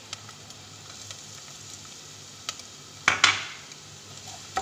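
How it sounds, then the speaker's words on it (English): Garlic fries quietly in a pan, a low faint sizzle beneath light clinks of a utensil and a couple of sharper metallic scrapes, close by and without talking. "fry it up"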